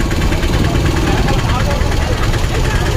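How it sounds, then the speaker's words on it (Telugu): A tractor engine idling, a loud, steady low mechanical rumble with constant vibration, close by and unbroken throughout. "ట్రాక్టర్"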